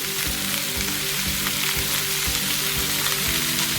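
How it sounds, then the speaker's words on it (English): Tomatoes frying in a cast iron pan for spicy chili chutney, a loud, steady sizzle and crackle that holds evenly throughout with no talk over it. "And then in go in the tomatoes."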